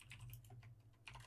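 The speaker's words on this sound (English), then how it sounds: "I'm typing it in" Rapid keystrokes on a computer keyboard, close and fairly quiet, a steady clatter for about a second with a brief burst at the end, over a low hum.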